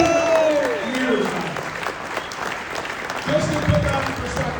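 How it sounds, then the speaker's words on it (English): Hands clap in a crowd at a charity roast of a hockey broadcaster, steady applause that runs throughout, while voices talk and call out over it. "How about a round of applause for that?"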